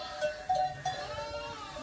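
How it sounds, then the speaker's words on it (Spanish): A flock of ewes with their twin lambs, roughly 80 ewes and 160 lambs, in a farm shed, giving a few short, faint bleats in a quiet barn. "Están en tandas de 80 ovejas, 160 corderos aproximadamente."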